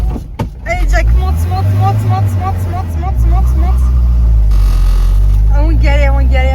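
A 4x4 vehicle driving off-road, its engine droning and rising in pitch as it strains over rough ground, heard from inside with people talking over it.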